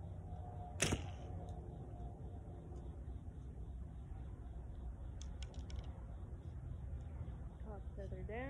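A practice arrow loosed from a pulled-back bow makes a single sharp snap and thud near the start, followed by a low steady background and someone talking quietly.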